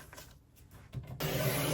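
Paper card stock being cut around a blue border for a handmade holiday card, a soft scraping rub that grows louder and steadier toward the end, close by and alone.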